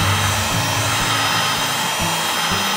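A heat gun blows with a continuous whirring hiss and a low motor hum that wavers slightly, heating a hammer handle, close by and loud, with no talking.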